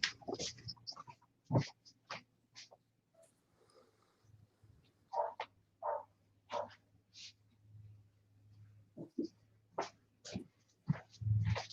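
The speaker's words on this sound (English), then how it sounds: "Can you guys hear Busta barking out there?" A dog barks in short, scattered bursts from a distance, faint and intermittent over a quiet indoor hum.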